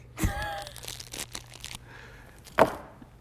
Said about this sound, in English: this is a bad time to unwrap your candy